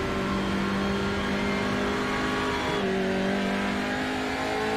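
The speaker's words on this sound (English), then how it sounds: "Mark Cochrane now in one of the Hyundais. Looks like the Veloster" Racing car engines in a sim racing game with touring cars, including a Hyundai Veloster, drone steadily and loudly, with a shift in pitch partway through as the revs drop and climb again.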